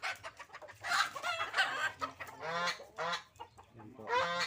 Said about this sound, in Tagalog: Mga manok niya, ang mga panabong.